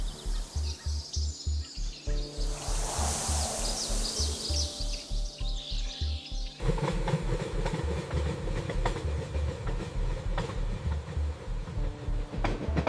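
A train runs on the Kalka-Shimla mountain railway in the Himalayas, its wheels beating a steady, rhythmic clickety-clack over rail joints, loud and close, with a hum, squeals and faint bird or insect calls in the background.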